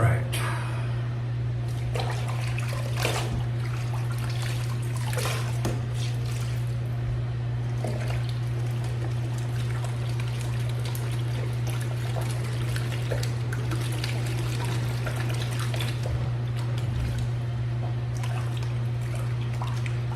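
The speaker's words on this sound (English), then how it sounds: "I like to rinse my brush out, get all the soap down in the water and melted" A shaving brush is rinsed in water during a straight razor shave, giving a steady soft trickle and sloshing under a constant low electrical hum, with occasional clicks and a voice speaking now and then.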